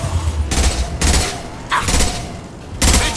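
Bursts of sci-fi gunfire from Blue Suns mercenaries and Vorcha in Mass Effect 2, loud rapid volleys coming in three or four clusters separated by short gaps, with a distant rumble underneath.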